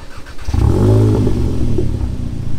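A VW Golf 7.5 GTI with a straight-pipe, fully open exhaust fires up after a short quiet moment, then settles into a loud, deep, rumbling idle close by.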